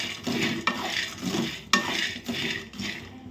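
A cup of raw peanuts dry-roasting in a large pan over medium heat for chutney powder, stirred steadily: a continuous scraping rattle of nuts against metal, broken by a few sharp spatula clinks, close and with no talking.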